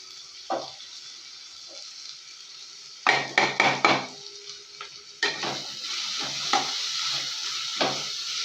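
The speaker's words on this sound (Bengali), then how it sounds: "এটা দিয়ে একটু নাড়াচাড়া করছি" Shrimp and kachur loti with garlic paste and turmeric are stirred in a hot pan, with a steady sizzle and bursts of scraping, clattering spatula strokes against the metal, loud and close with no talking.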